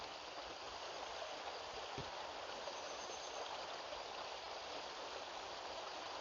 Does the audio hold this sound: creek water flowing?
yes